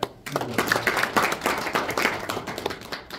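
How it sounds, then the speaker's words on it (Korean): Audience applause at a Korean taekwondo policy forum in Daejeon, as attendees are introduced: a dense patter of clapping hands that starts sharply and carries steadily for about three seconds in an indoor hall. "네, 박수"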